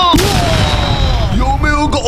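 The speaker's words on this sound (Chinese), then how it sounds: "这剑竟然会爆炸" In a cartoon, arrows strapped with fireworks explode in a loud, dense blast that fills the whole moment, with whistling tones sweeping through the roar.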